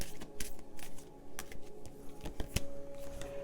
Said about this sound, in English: Okay, number two, you need a good shuffle.